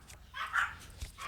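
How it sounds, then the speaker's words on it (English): A dog in the game The Legend of Zelda: Tears of the Kingdom gives a short yip or bark, followed by soft whimpering sounds, moderately loud over quiet background. "My dog's here."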